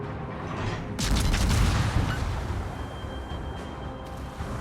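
Warship guns fire high-explosive shells in World of Warships, a loud burst of booming salvos landing together, then rumbling decay and distant crackling impacts.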